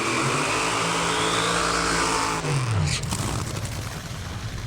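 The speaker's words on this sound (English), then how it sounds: "Brittany completes her burnout" A Top Fuel dragster on a drag strip roars through its burnout, a loud, dense engine blast that sustains and then drops in pitch with harsh, scraping tire noise near the end.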